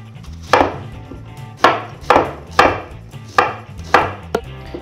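An onion being chopped on a board with a knife, six evenly spaced firm chops, close and clear with no talking.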